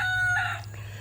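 A rooster crows once near a backyard coop, a short, loud crow over a low steady hum.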